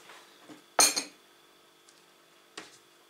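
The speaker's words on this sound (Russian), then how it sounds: "Вот, закрываем крышкой." A lid clinks and scrapes onto a glass jar of homemade matsoni, one sharp close burst followed by a quieter tap, in a quiet room.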